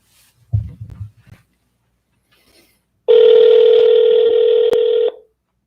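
Telephone call ringing out: a brief low rustle, then a loud steady electronic ring tone holds for about two seconds before cutting off.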